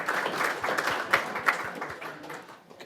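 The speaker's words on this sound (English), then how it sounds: "A round of applause for our judges." A modest crowd applauds the judges at the Australian National Budgerigar Championship, a brief burst of scattered clapping with a few louder claps standing out, fading toward the end.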